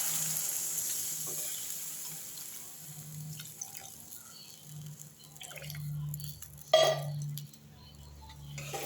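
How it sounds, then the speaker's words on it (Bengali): Water poured into a pot of thin rohu fish curry, a soft trickling and dribbling run with faint clinks and one sharper splash near the end, close and fairly quiet, with no talk. "মধ্যে আমি জল দিয়ে দিচ্ছি"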